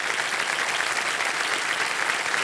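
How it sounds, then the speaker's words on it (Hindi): Loud, sustained applause from a television quiz-show studio audience, steady and dense throughout without a break. "एक बार जोरदार तालियां बज जाए इनके लिए"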